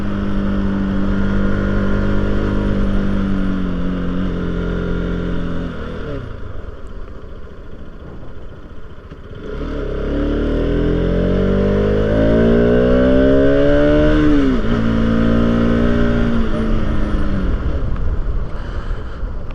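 A Bajaj Pulsar RS200 motorcycle climbs a slope, its engine droning loud and steady, dipping briefly mid-way before revving back up with rising, strained tones.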